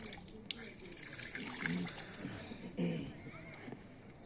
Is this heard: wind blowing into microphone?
no